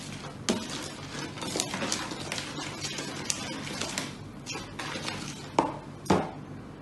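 Cake batter of butter, sugar, egg and flour being stirred anti-clockwise in a bowl, with repeated clinking and scraping of the utensil against the bowl in an uneven rhythm, fairly quiet and close.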